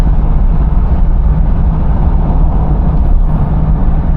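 A 1981 Cadillac Eldorado driving at about 40 mph while accelerating, with a loud, steady low engine and road drone filling the cabin continuously, no talking.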